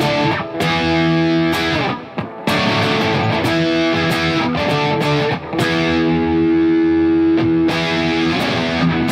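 Electric guitar played through a Klon overdrive pedal with a noise gate, sustained distorted chords and ringing notes with abrupt silences where the gate cuts off, loud and close with no talking.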